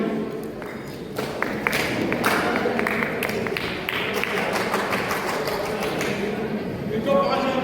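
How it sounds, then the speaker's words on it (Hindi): An audience at a school district-level science model award ceremony claps for the winning students, a dense patter of hand claps that runs unbroken and moderately loud throughout. "एक बार जोरदार तालियां इनके लिए।"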